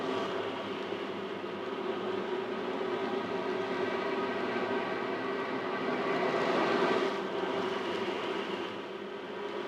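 An ocean drum, its loose beads rolling across the drumhead as it is tilted slowly, gives a continuous soft hissing wash like gentle waves, swelling slightly partway through before easing off.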